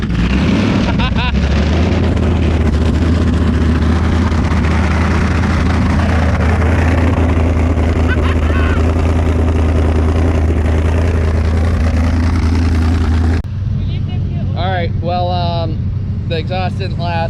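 A Ford S550 Mustang drift car with its exhaust blown off roars loud and close, a raw, harsh engine drone held steady for about thirteen seconds before dropping to a lower idle while a voice talks over it.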